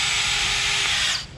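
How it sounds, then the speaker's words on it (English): An electric drill clear-drills a dimpled 3.2 mm rivet hole in an aircraft vertical stabilizer part, a single close, loud, steady whine lasting just over a second before cutting off. "And you just clear drill that."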